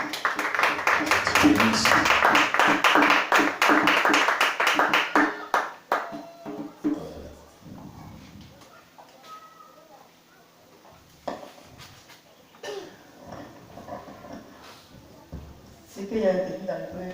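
A church congregation claps in rapid, loud unison during a worship service, then the applause dies away into scattered voices and intermittent taps and claps.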